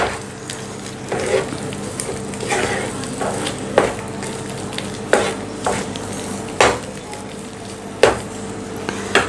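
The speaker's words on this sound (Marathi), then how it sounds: "व्यवस्थित हे मिक्स करून घ्यायचं आहे जोपर्यंत याचा घट्ट गोळा तयार होत नाही" A semolina and potato mixture is stirred in a pan on the stove until it forms a thick dough, giving steady scraping and sizzling with sharper periodic knocks of the spoon against the pan.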